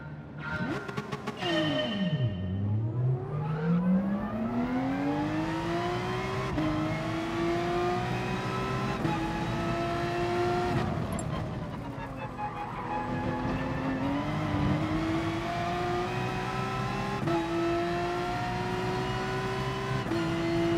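Race car engine in the GT Sport racing game revving hard and continuously, pitch sweeping down then climbing repeatedly through gear changes, loud and up close for the whole stretch with no talk.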